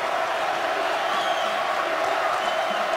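A basketball arena crowd at Texas Tech in Lubbock stands and cheers during the closing seconds of a close game against Auburn, a steady wash of distant crowd roar under faint commentary.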